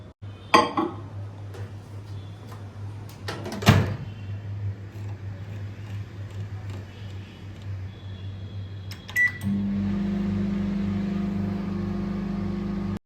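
A microwave oven hums steadily while cooking prawn malai curry with coconut milk. A few clinks and knocks come near the start, then a short beep, and a louder, deeper hum follows.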